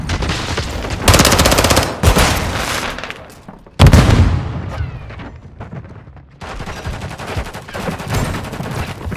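Gunfire in the video game Call of Duty: Modern Warfare III, with loud rapid automatic bursts and heavy single shots, one sharp blast near the middle, and short quiet gaps between volleys.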